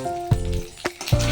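A fish head sizzles and crackles in hot oil while being fried for bottle gourd curry, a short close burst of frying with a couple of sharp pops.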